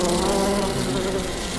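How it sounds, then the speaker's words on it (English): A bee buzzes inside a car, loud and close, a continuous droning hum with no break. "I'm a bee, and I bumbled my way into your car."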